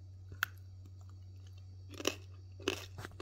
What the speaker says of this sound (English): I like to just munch on them.